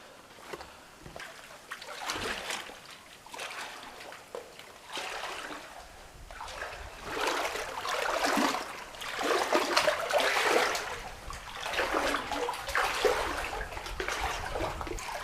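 Splashing and sloshing of legs wading through cold, mid-thigh-deep water in a narrow slot canyon, a continuous churning that swells louder in the second half, close by with no talk.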